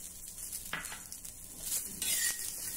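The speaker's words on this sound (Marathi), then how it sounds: "सर्व कोरडे मसाले भाजून झाल्यानंतर आता यामध्ये 1 मध्यम आकाराचा कांदा आपण भाजून घेऊ" A medium onion dry-roasting in a pan without oil, giving faint scraping and soft stirring clatter with a light sizzle, a few brief utensil knocks against the pan, quiet and close.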